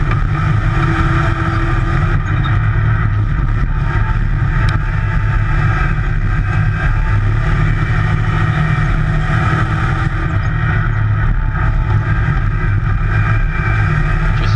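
Race car engine on the Nevada speedway, a loud, steady drone held at constant revs throughout with wind and road rumble, heard close from inside the car.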